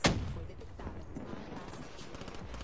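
Gunfire in the multiplayer video game Black Ops 3, a sharp shot at the start followed by a dense, steady wash of game audio and distant shooting, with no talk in the clip.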